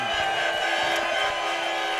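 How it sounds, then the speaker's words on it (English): A studio audience at a live motocross show cheers and applauds for guest Chad Reed, a steady, loud wash of clapping and crowd noise filling the room. "Let's have a round of applause for Chad Reed"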